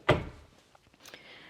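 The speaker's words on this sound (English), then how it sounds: "I like that they have this little closet door here too." A small linen closet door in a new house bumps shut with one solid thud near the start, followed by a quieter click about a second later in an otherwise quiet room.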